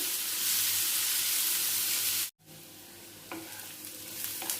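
Curry leaves and ginger frying in hot oil for an omelette dish, a dense bright sizzle that cuts out abruptly midway, then resumes quieter with scraping stirs, near and without voices.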